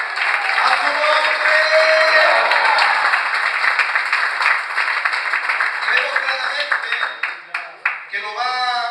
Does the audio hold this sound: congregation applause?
yes